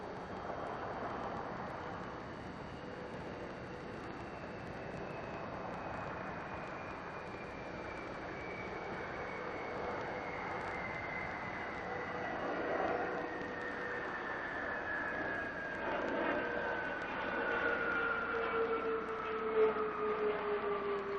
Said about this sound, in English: Atlantis rolling out on runway 15 at the Kennedy Space Center, and nose gear touchdown.